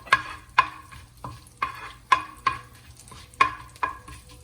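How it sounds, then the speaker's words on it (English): Masala spices crackle in melted butter in a pan as repeated sharp pops and spattering bursts, roughly every half second, over a faint steady sizzle. "These things are definitely faster to splutter."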